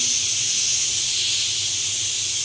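Steam hisses steadily and loudly from a pressure cooker used to boil potatoes as its whistle weight is removed, a continuous close rushing sound with no pauses.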